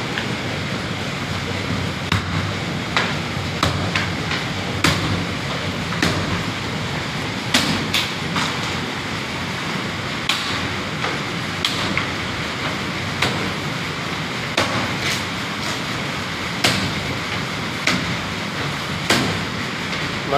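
A very large, heavy computerized embroidery machine runs with a continuous dense mechanical rumble and rattle, punctuated by regular faint clicks and ticks about once a second, steady and close throughout.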